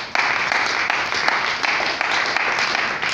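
A church congregation claps together during a service, a dense and continuous patter of hands that pulses slightly in waves and carries on for the whole stretch.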